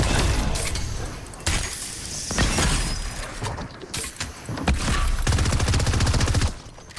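Gunfire in the video game Fortnite rattles out in dense loud bursts and rapid volleys mixed with shattering impacts, continuous and close, with no voices.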